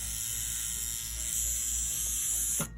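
A Wormhole tattoo machine running at 7 volts gives off a steady, close mechanical buzz with a fine rattling vibration that holds level and then cuts off abruptly near the end.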